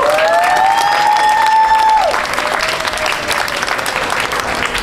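Sustained applause with some cheering from wedding guests at a garden wedding ceremony, loud and dense, with a held whistle-like tone early on before the clapping carries on alone.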